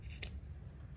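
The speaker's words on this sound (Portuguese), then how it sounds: "Agora eu vou cortar aqui." Scissors make one quick, quiet snip through crochet yarn while a handbag is being finished, followed by near silence.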